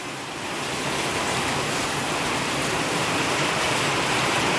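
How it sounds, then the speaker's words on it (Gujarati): Heavy monsoon rain pours in Morbi as a dense, steady roar that swells slightly at the start and then holds at full strength, close and unbroken, with no voices. "આ છે મોરબીનો વરસાદ ફ્રેન્ડ"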